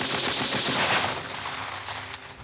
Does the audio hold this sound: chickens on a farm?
no